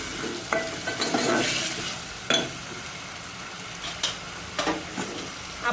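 Ginger garlic paste fries in hot oil in a pan while being stirred, a soft crackling sizzle punctuated by several sharp spoon scrapes and knocks against the metal, close and without talk.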